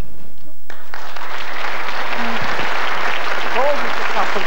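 A crowd claps in a dense, steady burst of applause that starts suddenly and carries on, with a few faint voices underneath.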